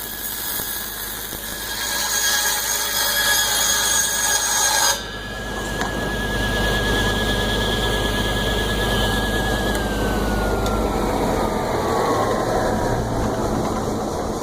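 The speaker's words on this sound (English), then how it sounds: "here I just made a cut in a piece of Luan plywood that I had left over from another project" A saw cuts through a piece of leftover Luan plywood with a loud, steady high-pitched whine and shrill squeal, then the tone drops abruptly and slowly winds down as the blade coasts, over constant motor noise.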